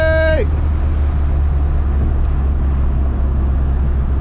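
Ford Mk1 Escort rally car engine running loud and steady throughout, with a brief rising rev at the very start and a continuous deep rumble after.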